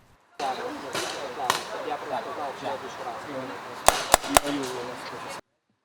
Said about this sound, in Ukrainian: пневматична зброя, що стріляє кольоровими кульками